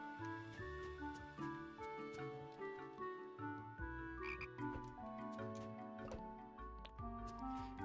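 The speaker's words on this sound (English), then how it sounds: "A frog." A frog in the video game Everafter Falls croaks faintly beneath a busy, continuous game music score of layered tones, with no talking.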